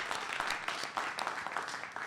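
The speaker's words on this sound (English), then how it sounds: "Let's give her a round of applause." Audience applause fills a press conference welcoming an Oakland assemblymember to the stage, a dense steady clapping from a crowd lasting about two seconds without pause.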